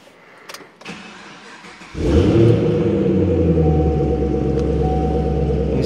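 A 2015 Chevrolet Camaro ZL1 fires up after a few seconds of quiet, its engine catching with a loud burst and then settling into a deep, steady idle rumble that holds close and strong to the end.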